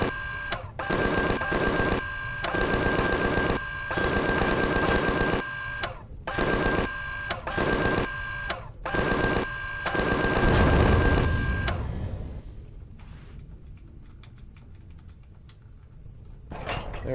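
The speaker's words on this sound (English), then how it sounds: "I think we have just enough to take this guy out with this minigun ammo we have left." A minigun in the Empyrion space survival game roars in long, dense bursts of rapid fire, broken by short pauses and a brief gap before a final stretch. Afterward the firing stops and only a low, quieter ambience remains.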